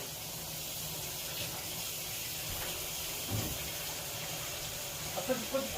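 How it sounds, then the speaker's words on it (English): Water flushes through a Vaillant boiler heating system being repaired for a faulty pump and passing filling loop, a steady hissing rush under faint background voices with a few small knocks near the end. "it's flushing, the whole system is flushing"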